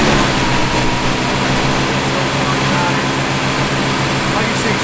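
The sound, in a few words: 1959 Chevrolet Corvette engine running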